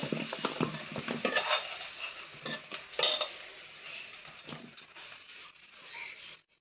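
Fried potatoes are moved into a pot during home cooking: close clinks and scrapes of utensils against cookware clatter in the first half, then thin out to softer, sparse knocks before stopping.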